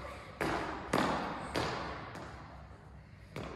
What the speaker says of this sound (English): Great jumping, Zach.